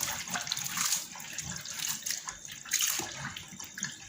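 Tap water splashes into a pot as it is changed to cool it, a steady running gush with louder surges near the start and again after the midpoint, close and alone without talk.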